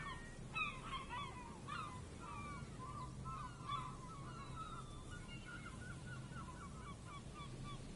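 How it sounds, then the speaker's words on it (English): Seagulls call repeatedly around a weathered old stone and metal building in a video game, their squawks faint and scattered over a steady bed of ambient wind or surf. "It looks old and weathered, with seagulls picking apart its stone and metal carcass."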